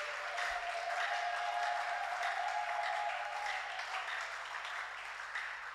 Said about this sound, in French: j'aimerais entendre des acclamations à la gloire de mon Dieu